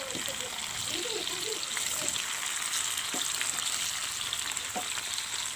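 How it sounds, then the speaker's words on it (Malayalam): Chicken pieces for homemade shawarma frying in a pan, a steady dense sizzle throughout with a few soft stirring or turning knocks, close and moderately loud, no talking. "അപ്പോഴേക്കും നമ്മുടെ ചിക്കൻ്റെ ഒരു ഭാഗം ഫ്രൈ ആയിട്ട് വന്നിട്ടുണ്ട്."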